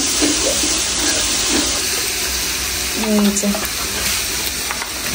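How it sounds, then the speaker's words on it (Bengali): A roast, a meat dish, cooks in a pan in a home kitchen, a steady frying sizzle with soft stirring and scraping of the pan and a brief tap-water splash partway through. "তো এদিকে রোস্ট রান্না করা হচ্ছে, টক দই দেওয়া হবে এখন।"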